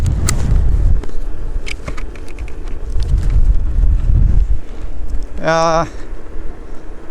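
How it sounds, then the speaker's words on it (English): Wind gusts against a microphone outdoors in heavy, low buffeting bursts that rise and fall, with a brief warbling tonal sound near the end. "It's windy."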